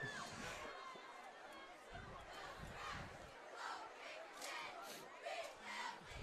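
A crowd in the stands at a high school football game cheers and yells continuously, distant and fairly steady with swells of shouting, voices chattering throughout.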